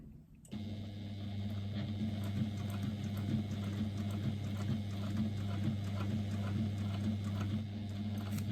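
A sewing machine stitches a long straight seam, its motor starting after a brief pause and then running as a steady, close whirring hum with a faint rhythmic needle clatter, with no talking.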